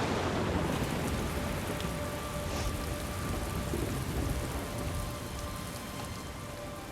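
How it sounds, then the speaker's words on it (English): A violent storm sweeps into a desert canyon, with steady heavy rain hissing on sand and rock and a faint rumble of distant thunder underneath. "a violent storm blows into the canyon."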